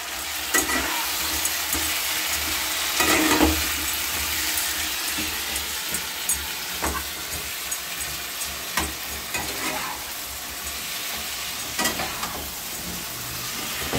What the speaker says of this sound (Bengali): আলুর দম বসিয়ে দিয়েছি, ভাজা হয়ে গেছে।